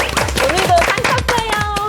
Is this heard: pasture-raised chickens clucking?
no